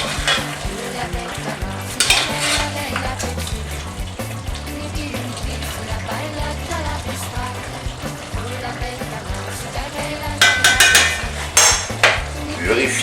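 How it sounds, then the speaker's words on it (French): Smoked pork and eggplant sizzling in a pan while being stirred, a loud close frying hiss with clanks and scrapes of the utensil against the pan, busier scraping near the end. "remuez bien le tout."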